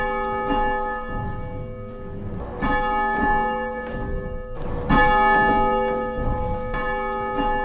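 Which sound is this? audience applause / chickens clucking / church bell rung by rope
church bell rung by rope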